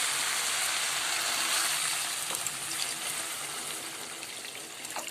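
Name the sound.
water being poured into pot of fried black chickpeas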